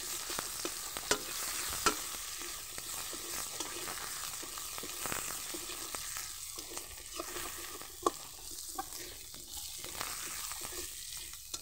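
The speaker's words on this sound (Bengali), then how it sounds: "পেঁয়াজ কুচিটা দিয়ে আমি ভালো করে একটু ভেজে নিচ্ছি।" Chopped onion fries in oil in a pan, a soft continuous sizzle with scattered clicks and scrapes of stirring, heard close but fairly quiet.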